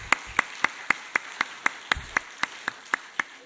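A church congregation claps together in a steady, evenly spaced rhythm, about thirteen sharp unison claps heard fairly faintly at a moderate distance.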